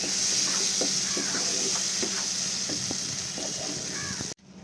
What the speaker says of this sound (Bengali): তেল না ছাড়া অবধি ভালো করে এটাকে কষিয়ে নিতে হবে